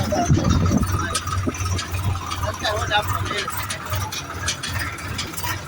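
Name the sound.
tractor engine running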